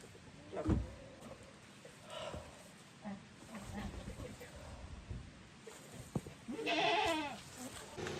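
Goats bleating on an off-grid farm in the Canadian wilderness while a goat shelter is being built, with bursts of calls near the start and a louder, wavering bleat near the end, all under nearby talk and farm noise.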